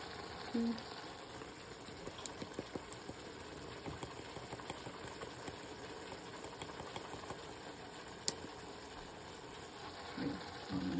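Beans for holiday rice simmer and sizzle quietly in a pot after a spoonful of powder goes in, a faint, steady hiss with scattered soft clicks and scrapes from stirring.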